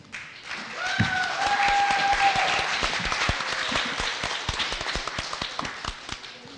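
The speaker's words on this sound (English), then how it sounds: "I would like to offer a round of applause for those candidates willing to serve as your chief" An audience claps for candidates for chief at a community gathering, opening with a few sharp claps that swell into fairly loud, crisp applause, then thin into scattered individual claps.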